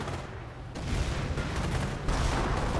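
Gunfire and distant explosions from a large tank battle in the strategy game Company of Heroes. The shots and booms swell in a dense, continuous rumble that gets louder partway through.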